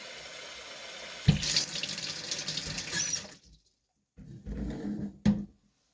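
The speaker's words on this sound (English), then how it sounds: "I'm going to bring the water up to about 3 to 4 inches to the rim." Water runs from a tap into a container for making sauerkraut, a steady splashing pour that stops briefly, then resumes for a short second fill with a faint squeak at the handle.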